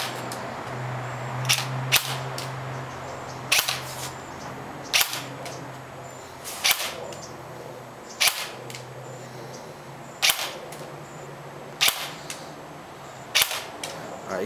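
A G&P Defender airsoft electric gun fires single semi-auto shots, about a dozen sharp, loud close cracks spaced roughly a second or more apart, with a faint hum under the quieter gaps.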